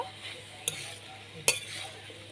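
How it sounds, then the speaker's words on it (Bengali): Spoon stirring shukto, a Bengali mixed vegetable curry with fried spices added, in a pan, producing two sharp scraping clinks against a low steady background hiss. "আমি একটু নাড়াচাড়া দিয়ে নেব।"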